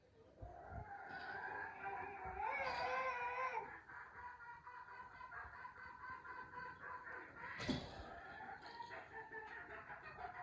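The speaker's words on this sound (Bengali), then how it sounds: "আমাদের মুরগিগুলো মিছিল শুরু করেছে খাবার দেওয়া হয়েছে তারপরেও খুব ডাকাডাকি করছে" Chickens clucking and squawking loudly, with one shrill, drawn-out cry partway through; the noisy calls continue throughout without any talking.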